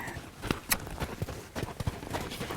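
A green young horse's hooves clip-clop in an irregular walking rhythm during a ride, close and moderately loud, with soft scuffs and faint background noise between steps.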